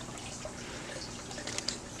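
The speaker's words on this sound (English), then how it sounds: "I'm getting these nice and moist with a little watering can." Small watering can pouring onto strawberry seedlings in a plastic seed-starting greenhouse container, a faint, soft trickle and a few light drips, quiet and close.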